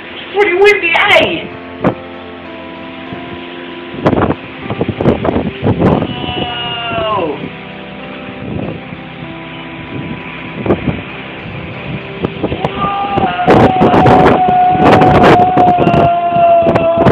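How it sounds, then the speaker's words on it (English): Strong December wind buffets the microphone in rumbling gusts while someone talks and shouts, with bleating-like cries and a drawn-out tone rising near the end. "It's pretty windy, eh?"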